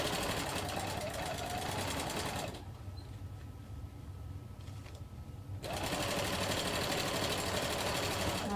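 A sewing machine stitching a casing on a shower-curtain cloth diaper cover, close and steady in a rapid mechanical whir, pausing for about three seconds midway before running again.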